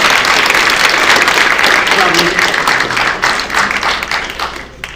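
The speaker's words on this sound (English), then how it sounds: "All right, let's give Lucas a round of applause" Audience applause for a presenter at a university founders' forum demo day, a loud, dense sustained clapping from a crowd filling the whole clip and tapering slightly near the end.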